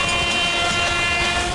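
An Indian Railways train sounds its horn, a loud sustained steady tone held over the rumbling rush of the moving train, without talk.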